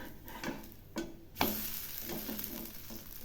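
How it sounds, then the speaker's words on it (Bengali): A thin pumpkin fritter spread like a flatbread fries in mustard oil in a pan, a soft steady sizzle punctuated by a few scraping stirs and taps of a utensil. "একদম কড়া করে ভেজে নেব।"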